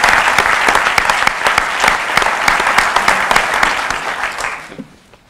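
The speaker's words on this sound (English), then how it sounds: "So please a round of applause for Scott for achieving senior officer." An audience at a police department awards ceremony claps loudly and steadily for a senior officer promotion, a dense indoor round of applause lasting about five seconds before fading out.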